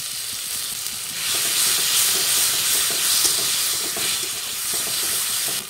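Ground spice paste hits a hot pan of onions, salt and turmeric for a village-style egg curry cooked on a rooftop, setting off a loud, steady sizzle and hiss that swells after a quieter start and keeps going to the end.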